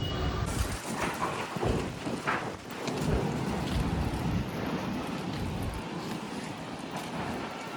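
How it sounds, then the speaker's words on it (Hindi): A fierce dust storm blows steadily and loudly outdoors, a broad roaring rush with buffeting wind noise on the microphone throughout and no talking. "आंधी चाल रही से बहुत भयंकर।"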